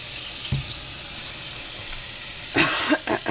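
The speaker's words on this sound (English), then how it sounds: "Let's wash my hands since I'm covered in sausage and egg." A kitchen tap runs steadily while hands are washed under it, a soft continuous water hiss with a few brief splashes and knocks near the end.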